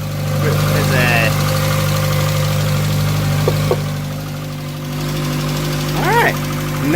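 A car engine turns over and settles into a steady mid-pitched idle, loud and close, with a few brief knocks and chirps riding over the running hum.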